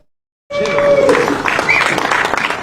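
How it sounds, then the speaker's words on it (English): Republican senators at a Rose Garden lunch break into a round of applause, a dense, loud burst of clapping that starts abruptly and holds steady throughout. "President Donald Trump greeted by a round of applause from GOP senators"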